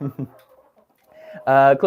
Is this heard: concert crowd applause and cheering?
no